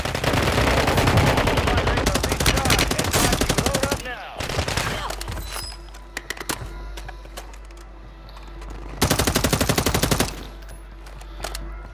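Dense automatic gunfire in a Call of Duty match, rapid loud rattling bursts at the start and again near the end, with scattered single shots and softer game noise between.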